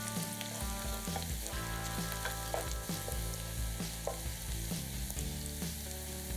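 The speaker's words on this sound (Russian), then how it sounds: "Пассируем лук до золотистости." Onion sizzles continuously as it sautés in a pan, with occasional stirring scrapes and a soft musical backing throughout.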